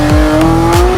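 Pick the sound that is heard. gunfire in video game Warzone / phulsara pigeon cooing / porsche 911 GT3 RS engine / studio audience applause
porsche 911 GT3 RS engine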